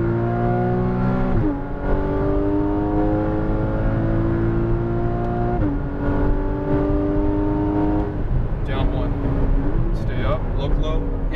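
A Porsche Cayman GTS engine climbs steadily in pitch as it accelerates on a race track, dropping with each of several gear shifts, loud and continuous while a voice talks over it.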